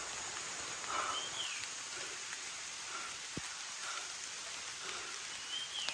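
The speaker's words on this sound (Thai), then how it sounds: "ฝนตกลงมาแล้ว" Steady rain falls in a broad, even hiss that fills the whole span, with occasional faint chirps and one sharp tap partway through, no voices over it.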